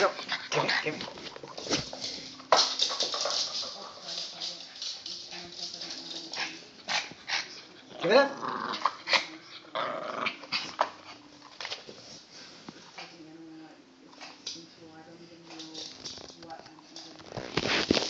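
A Maltese dog growls and whimpers while tugging on a toy, producing close, rough, rising-and-falling growls in uneven bursts, mixed with a person talking encouragingly over it.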